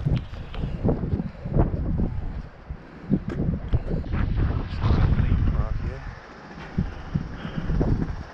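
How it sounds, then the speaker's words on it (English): Gusty wind rumbles across the microphone outside the Sagrada Família in Barcelona while someone talks over it throughout. "So at this point it's pretty windy"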